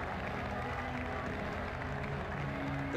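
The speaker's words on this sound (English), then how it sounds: "The crowd really enjoyed that." Crowd at a cricket video game match cheering and applauding, a steady dense roar of clapping and voices that holds evenly throughout without a break.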